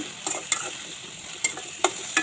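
Potatoes and okra fry gently in oil, a soft steady sizzle broken by several sharp spoon scrapes and clinks as they are stirred in the pan.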